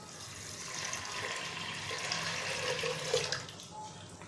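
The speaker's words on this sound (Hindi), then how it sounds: "साथ ही हम इसके अंदर 3 गिलास पानी ऐड कर देंगे।" Three glasses of water pour into a pressure cooker of chickpeas with salt, a steady rushing, splashing flow at moderate loudness throughout, alone without talk.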